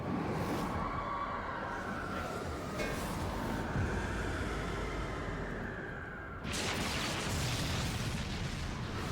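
In Final Fantasy XIV, a Red Mage limit break gives off a sustained, rumbling blast layered over game noise, with a sharp brighter surge partway through that carries on to the end.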